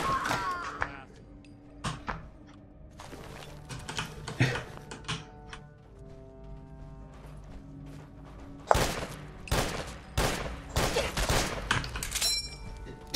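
Turret gunfire and shots in Fallout 4, a series of sharp cracks and bursts clustered early and again in a dense run near the end, loud and near against a quieter game background with no talk.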